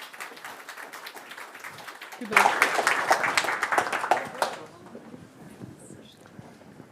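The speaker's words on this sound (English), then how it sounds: "a big round of applause for Aoife and for Hans" An audience at a climate change talk bursts into applause, loud dense clapping for a couple of seconds that then fades away, with a brief spoken word before it.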